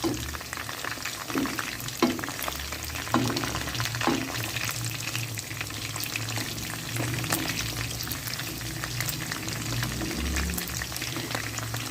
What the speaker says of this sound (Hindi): दस मिनट हो गए हैं चिकन को फ्राई करते हुए